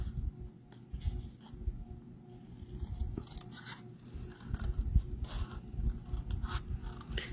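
Scissors snipping through paper stamped with ink in a papercraft setting, a few short close cuts amid soft rustling and scraping of handling, with no talk.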